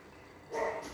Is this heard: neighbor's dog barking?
yes